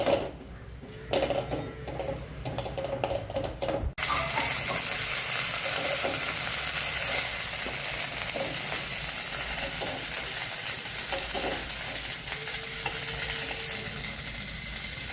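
Garlic pieces roast in a hot pan with a loud, steady sizzle and hiss that swells after a few seconds of quieter stirring clatter and continues without a break to the end.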